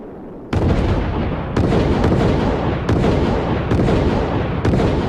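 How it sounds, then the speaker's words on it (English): A Project Orion test vehicle, propelled by repeated explosions, goes off in a loud, close series of five sharp blasts roughly a second apart, each one followed by a rumbling roar. "There's a film that shows this thing going bang, bang, bang, and up it goes a ways."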